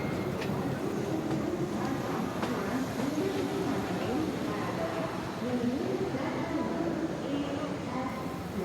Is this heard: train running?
yes